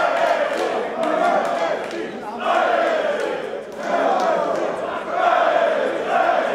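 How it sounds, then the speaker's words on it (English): Crowd cheering in the wrestling video game wXw Fight Forever, set in a Hamburg arena, a loud roaring crowd that swells and dips in waves throughout. "you hear the fans here in Hamburg cheering on both men in this exchange"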